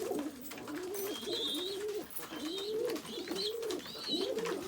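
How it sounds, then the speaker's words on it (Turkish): Tumbler pigeons coo repeatedly in soft, rolling phrases, close by and continuous, with a faint high chirp or squeak over some of the calls. "o taklacı kuş arkadaşlar"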